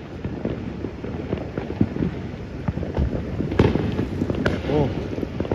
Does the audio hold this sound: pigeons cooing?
no